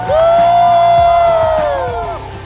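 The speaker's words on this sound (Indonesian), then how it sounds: "Tepuk tangan sekali lagi" A crowd at a student and campus literacy activist celebration in NTT, Indonesia, cheers loudly, one long, rising, then falling shout standing out before fading.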